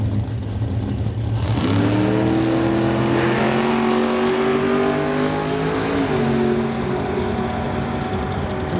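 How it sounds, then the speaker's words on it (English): Drag racing cars launching from the line at qualifying for a door-car event, a loud sustained engine roar with rising revs and a shuddering pitch drop mid-run from tire shake, close and dominant throughout. "Some definite tire shake for Scott Grant."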